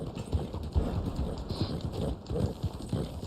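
Hooves of a Black Arabian horse clip-clopping in Red Dead Online, a steady trotting rhythm of soft thuds, close and continuous under a broad background hiss.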